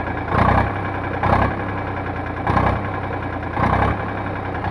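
An Eicher 485 tractor engine idles with a steady low rumble, swelling in four regular louder surges about a second apart, close by and with no voices.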